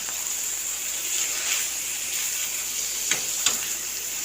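Garam masala being stirred into egg and onion frying in a pan gives a steady, close sizzle, with a couple of quick scraping stir strokes near the end.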